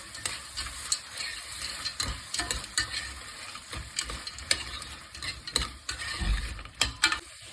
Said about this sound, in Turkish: Sonra kavurma işlemine devam ediyoruz.